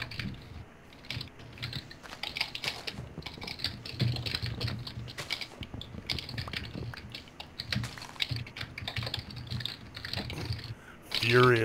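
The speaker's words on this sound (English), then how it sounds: "Furiously typing." Fast, frantic typing on a computer keyboard goes on without pause, a dense run of sharp clicks under a person talking during a UHC gaming session.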